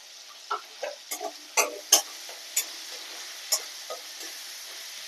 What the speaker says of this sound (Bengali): টমেটোর মধ্যে সামান্য নুন, দিয়ে ভালো করে কষিয়ে নেব।